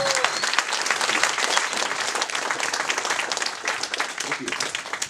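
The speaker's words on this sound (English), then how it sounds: "Big applause" Dense, sustained applause from a crowd at a company kickoff event in Sweden greets a speaker being introduced, with steady clapping that fills the room throughout.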